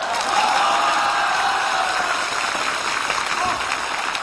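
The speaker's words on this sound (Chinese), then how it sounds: "此处有雷鸣般的掌声" Thunderous audience applause at a staged comedy sketch performance, a continuous dense wash of clapping held at a steady, loud level for several seconds.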